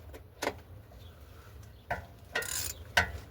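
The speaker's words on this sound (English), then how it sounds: "I still got two bolts on the corners though. So we're gonna start loosening those, see what it does." A ratchet loosens the corner bolts of the transmission pan on a 2014 Yukon XL with a 6L80 transmission, giving short separate clicking bursts in a quiet setting, four or five quick strokes close by.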